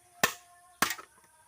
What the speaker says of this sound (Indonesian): bahkan dipecahkan dengan tangan pun gampang pecah.